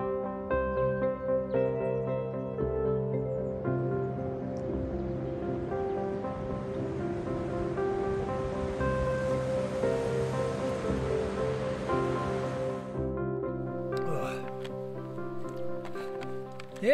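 Surf rolling onto a beach in the Australian bush, a steady wash of waves over sustained tonal hum, building through the middle and then thinning, with scattered clicks near the end.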